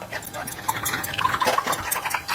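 Cucumber juice, seeds still in, trickles and splashes through a kitchen sieve: a close, steady, gurgling pour with small liquid patters throughout.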